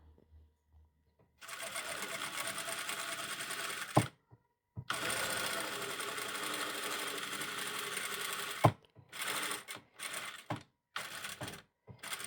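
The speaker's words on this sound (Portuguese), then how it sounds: "eu vou levantar o pé calcador girar e continuar costurando para a outra lateral" A sewing machine stitches a muslin dress with a lining and V-neckline, running in loud, steady bursts of rapid mechanical whirring separated by short pauses and brief clicks.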